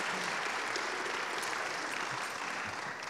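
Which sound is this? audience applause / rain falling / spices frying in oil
audience applause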